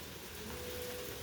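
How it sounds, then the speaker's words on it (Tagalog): Steady, unbroken rain hisses as a dense, even wash of noise. Outside a house during cleanup, it keeps a constant, moderate level with no breaks. "walang tigil ang ulan guys, Walang tigil ang ulan"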